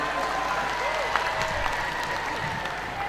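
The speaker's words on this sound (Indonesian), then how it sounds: "Boleh tepuk tangan dong," Audience applause from a large student crowd at a university gathering, a steady wash of clapping across the whole stretch with a faint murmur of voices underneath.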